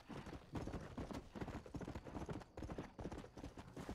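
A horse gallops in Red Dead Redemption, its hooves pounding out a quick, steady rhythm of close, distinct clip-clops for the entire stretch.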